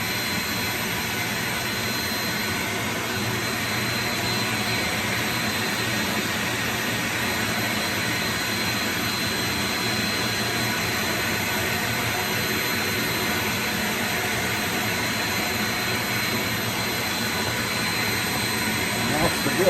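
A vacuum sucks steadily while cleaning an electronic device, a loud, unbroken whine with a high tonal edge that holds for the whole stretch.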